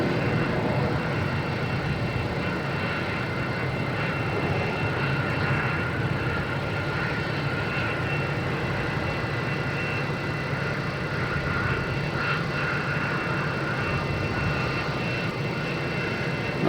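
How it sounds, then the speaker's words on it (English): Delta Embraer E175 regional jet taking off at Boston Logan International Airport: a sustained, fairly loud broadband engine roar that holds steady throughout, with no voices. "We have a Delta taking off, heading to Kansas City, E175."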